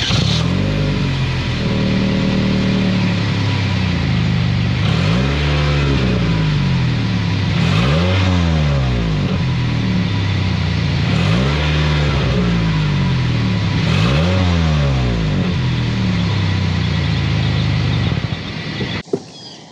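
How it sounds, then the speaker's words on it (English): A 2023 Toyota Camry LE with a 2.5-litre four-cylinder engine runs loud and close, its exhaust note rising and falling through a string of repeated revs before cutting off at the end. "start it up so you can hear that exhaust now."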